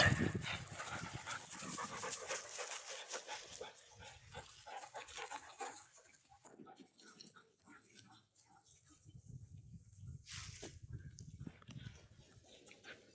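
A pack of dogs pants and snuffles close by, with scattered yips and small whimpers, busy and noisy at first, then quieter, then picking up again.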